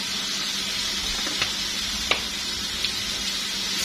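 Chicken seasoned with black pepper and salt is stir-fried in a pan, giving a steady close sizzle with a few sharp scrapes and clinks of the utensil against the pan.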